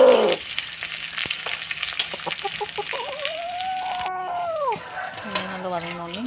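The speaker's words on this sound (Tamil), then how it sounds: "வெங்காயம் நல்லா வதங்கட்டும்." Chopped onions sauté in a pan for a brinjal and whole cowpea curry, giving a steady close sizzle with occasional clicks of stirring. Faint tonal, voice-like sounds rise and fall in the background.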